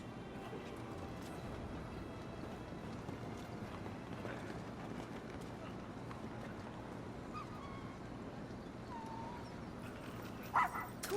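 Torgo, a puppy in the video game Final Fantasy XVI, gives faint yips and small barks over a soft, windy in-game ambience, with a sharper bark standing out near the end.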